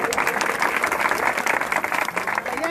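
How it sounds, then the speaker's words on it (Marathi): An audience at a devotional kirtan on Mahashivratri claps together in a dense, steady burst of applause, loud and close, continuing for the whole short stretch with no speech over it. "त्यांच्या नावाने आता टाळी वाजवा."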